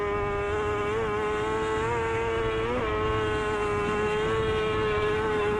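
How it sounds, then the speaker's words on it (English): A racing motorcycle at full throttle at the Isle of Man TT, recorded onboard, gives a loud, steady high-pitched engine whine that holds through the whole stretch with slight pitch dips and rises. "Just listening into the throttle commitment down there."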